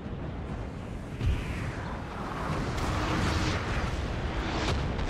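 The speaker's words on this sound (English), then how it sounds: "We're just basically obliterating them with cannon fire" Cannon fire in Napoleon Total War, heard as a continuous rumble of distant, overlapping booms with a heavier thud early on, dense and steady without pauses.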